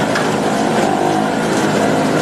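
Two small petrol generators running side by side on equal fuel, a loud, dense, continuous buzzing engine drone with no pauses and no voices.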